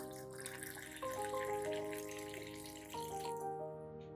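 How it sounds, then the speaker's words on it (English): Warm water, about 500 milliliters, poured into a banana peel and vitamin B1 mixture, a quiet tonal gurgle of filling liquid whose pitch rises as the container fills, in two pours, with no speech. "I will add approximately 500 milliliters of warm water to the prepared banana peel and vitamin B1 mixture."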